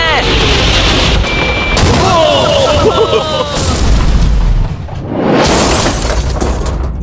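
A large explosion booms loudly with crackling, shattering debris that rumbles on for several seconds, then a second roaring burst follows, with voices underneath.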